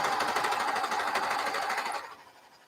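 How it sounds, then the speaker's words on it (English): Romper cuffs run through a sewing machine in a quick burst of rapid, even stitching that winds down and fades out after about two seconds, close and alone. "I just sew all the cuffs at one time."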